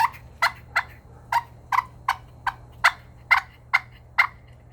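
Sharp, hollow clucks from a push pin turkey call, about eleven short evenly spaced notes sounded close and alone against a quiet background.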